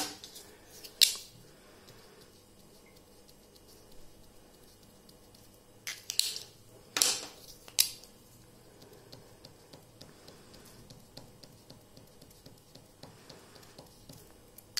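Scissors snip tissue paper into squares for a craft project, a few crisp, close cuts scattered between quiet stretches, with a quick cluster of snips near the middle.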